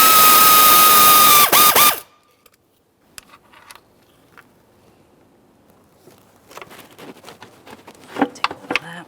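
Ratchet working on an intake manifold mounting bolt of a 2013-2020 Ford Fusion 2.0L I4: after a loud high whine that cuts off, faint near silence gives way to quick ratcheting clicks growing louder toward the end, without speech.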